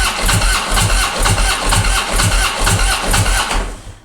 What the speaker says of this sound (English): We'll fire it up and let it idle until it dies.